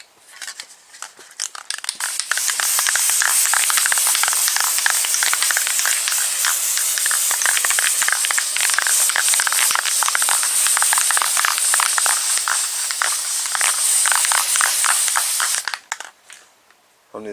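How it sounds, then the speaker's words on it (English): Flat black aerosol guide coat sprayed onto a car's bodywork during dent repair and primer prep, a loud continuous close hiss lasting about thirteen seconds, with short spurts at the start and the end. "Now I spray my guide coat on it."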